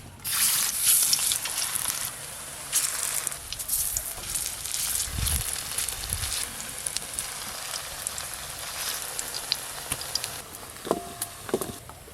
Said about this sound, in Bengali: দেখতে দেখতে এই কোপ্তাগুলো ভাজা হয়ে গেল।